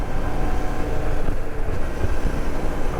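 A deep, steady motorcycle engine rumble through a Moto Wings exhaust with low throbbing pulses runs throughout, loud and close, with some wind buffeting and no voices.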